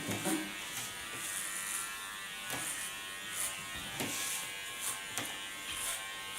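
Electric hair clippers buzz steadily through a 4 mm clipper cut, with brief louder bursts and scraping pulses as the blades pass through the hair, close and alone without talk.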